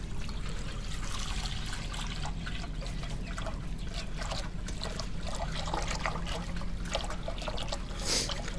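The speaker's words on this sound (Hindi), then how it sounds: "नाली हमारी साफ हो चुकी है, अब फ्रेश पानी डाल देते हैं इसमें।" Fresh water is poured steadily into a cleaned drain inside a cat's cage on a rooftop, giving a continuous trickling, splashing flow with small drips, close and even throughout.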